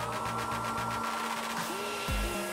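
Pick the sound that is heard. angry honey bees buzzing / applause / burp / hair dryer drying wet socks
hair dryer drying wet socks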